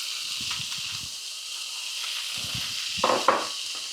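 Bacon frying in a pan over medium heat, a steady close hiss with short crackling bursts and a couple of sharper pops toward the end.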